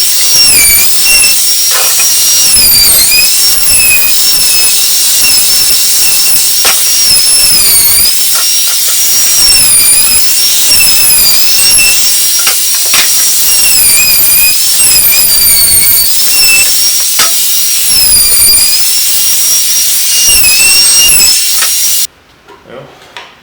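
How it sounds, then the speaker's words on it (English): A router fitted with a chamfer bit cuts wood, making a loud, continuous high whine with wavering pitch that rises and dips as the bit bites along the edges of a wooden planter tray, then stops abruptly near the end. "Router with the chamfer bit."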